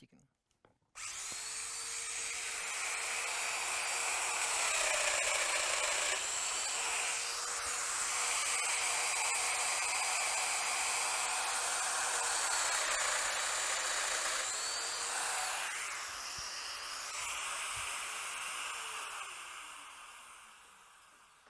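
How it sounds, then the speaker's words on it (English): A Festool Domino joiner whines through a series of dowel-hole routing passes in wood, a loud high-pitched motor tone that rises and dips as each cut is made, starting abruptly after a brief moment of quiet. "The dowel holes have now been routed."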